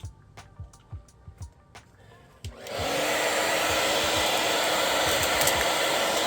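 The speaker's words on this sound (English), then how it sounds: "I'm going to hit it with my hair dryer just to kind of get that to adhere" A few light clicks and handling sounds, then a hair dryer switches on and blows with a steady, loud roar while heating vinyl wrap on a Toyota RAV4's front emblem.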